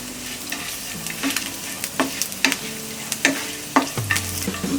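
Almonds fry in a pan with milk cooking over a low flame, giving a steady sizzle broken by scraping stirs and soft clinks of a utensil against the pan.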